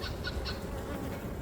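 Honey bees buzz steadily around an open beehive during an inspection, a dense close hum with no voices.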